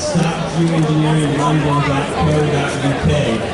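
Crowd chatter at an anti-geoengineering rally in London, close overlapping voices and general hubbub of many people talking at once, loud and continuous outdoors.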